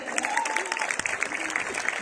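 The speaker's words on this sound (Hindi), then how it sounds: "एक बार उनके लिए जोरदार तालियां" Audience applause at a Mi Lifestyle company event, with a steady wash of clapping from a crowd over two seconds, moderately loud, while a voice carries faintly through it.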